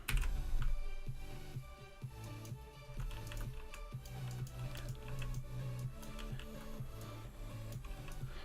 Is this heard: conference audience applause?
no